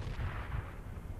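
A grenade explodes in the Forgotten Hope battlefield game, a faint, distant low rumbling boom that rolls on briefly with no voices over it.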